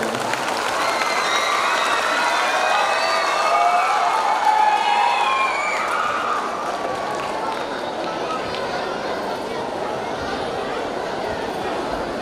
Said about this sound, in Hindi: छोटी सी तालियां बजा दीजिए, यही हमारे लिए आशीर्वाद है।